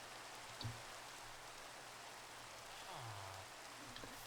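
Steady rain falls in the modded Minecraft game, a soft continuous hiss at low level with a faint low swooping tone partway through.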